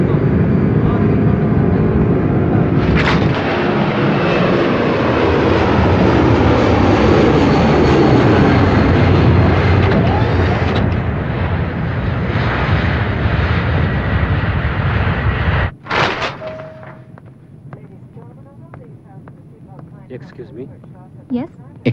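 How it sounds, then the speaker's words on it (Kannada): An airplane taking off gives a loud, continuous engine roar that holds for about fifteen seconds before cutting off sharply, leaving quieter cabin background with faint voices. "ಫ್ಲೈಟ್ ಟೇಕ್ ಆಫ್ ಆಯ್ತು"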